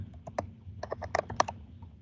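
Light keystrokes on a computer keyboard, a short uneven burst of about a dozen soft clicks, close but faint, with no talking.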